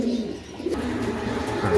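Pigeons coo softly and repeatedly at a home pigeon farm, close by, with low, throaty calls in a continuous murmur and no talking.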